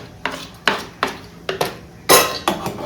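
A spoon clinks and scrapes against a metal pot while dry fruits are stirred into basundi, about eight sharp, close knocks at an uneven pace with no talking.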